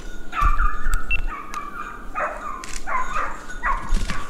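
A female hunting dog gives a run of high, whining yelps and short barks during a wild boar hunt, several close outbursts spread across a few seconds with rustling in between.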